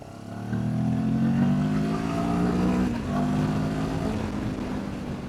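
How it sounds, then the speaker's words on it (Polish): A Benelli TRK702 motorcycle engine drones and revs up steadily on an open road, its pitch climbing, dips briefly, then keeps pulling strongly, close and continuous. "Ta trasa to jest idealny pokaz możliwości silnika tego motocykla."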